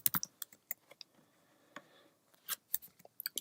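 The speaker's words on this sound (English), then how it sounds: "So I could just type in 3-second video on YouTube." Typing on a Mac computer keyboard: close, crisp key clicks in uneven bursts with brief pauses between them, no talking.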